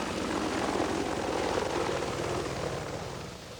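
A US Army AH-64 Apache attack helicopter flies overhead, its rotor producing a steady rapid thumping chop over a broad engine roar that fades slightly toward the end.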